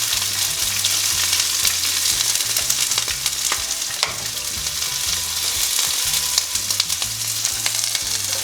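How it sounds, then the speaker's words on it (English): Chopped onion and scallion sauté in olive oil in a stir-fry pan, giving a loud, continuous close sizzle with steady crackling and light stirring, with no talking. "Now I'm going to saute my onion and my scallion."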